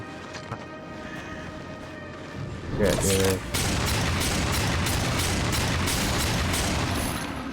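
Gunfire in the video game Darksiders 2 as caged skeletons are shot: a dense, loud burst of repeated blasts kicks in about three seconds in and keeps up steadily, with a rising sweep just before it.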